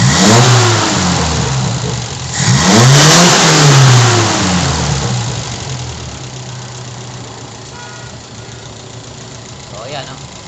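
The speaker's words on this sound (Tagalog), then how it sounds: "rev natin 3000 RPM 4000" A carburetor engine being worked on is revved twice toward 3000–4000 RPM, each run rising and falling loudly and close, before settling back into a quieter steady idle.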